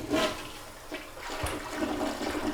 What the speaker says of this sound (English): See if you can flush it now.